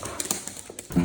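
A young female street dog, excited and unable to contain herself, gives short whining, yelping vocalizations that are not quite a howl, ending in a louder tonal whine; close and brief, no talking.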